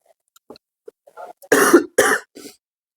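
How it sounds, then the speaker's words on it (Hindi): A few short throat sounds lead into two loud, close coughs, followed by a softer trailing cough. "सॉरी, खांसी आ रही है"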